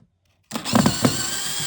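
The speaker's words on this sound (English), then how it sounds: "I like to use a power drill" A power drill whirs up suddenly after a short silence and keeps running steadily, driving out the screws on the underside of an upturned foot stool, close up with slight changes in pitch under load and no voices.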